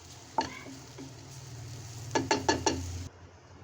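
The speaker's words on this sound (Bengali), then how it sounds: "এবার একটু নাড়াচাড়া করছি মাছটা ভাজা ভাজা হতে" Shrimp frying in a pan for a bottle gourd and shrimp curry gives a steady, close sizzle. A spatula scrapes through it with one early stir, then a quick run of four scraping strokes before the sizzle cuts off.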